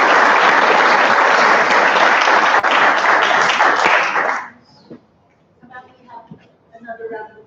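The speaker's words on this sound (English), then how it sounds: "Another round of applause." Loud, steady applause fills a board of education meeting room for about four seconds, then cuts off sharply, followed by quiet with scattered speech.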